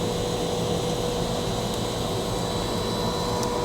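Coffee roaster blower running at 30% during the roast after first crack, a steady, even whooshing drone with a constant hum, no pauses.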